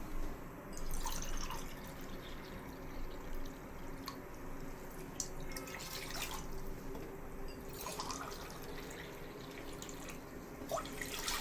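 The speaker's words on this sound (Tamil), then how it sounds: "ஃபஸ்ட்டு நம்ம 2 கிளாஸ் தண்ணி ஊற்றிக்கலாம்." Water poured into a cooking pot for ragi balls in a South Indian home kitchen, a steady trickling and dripping stream running close by for several seconds with no talk.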